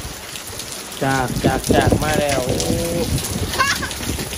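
Steady rain pours down in a continuous broadband hiss, with a voice talking and half-singing loudly over the downpour.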